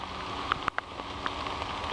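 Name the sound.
rain falling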